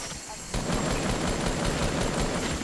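Automatic assault rifle fire in Fortnite, a rapid burst of gunshots that starts abruptly and runs to the end, with speech faintly present underneath.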